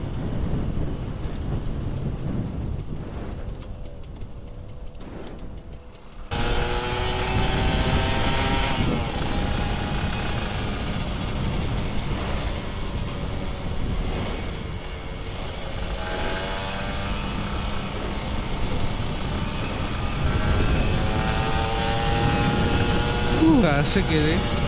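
Kawasaki Ninja RR 150 motorcycle on a night ride, its engine droning steadily and rising in pitch as the rider accelerates in moderate bursts, loud and close with wind noise throughout.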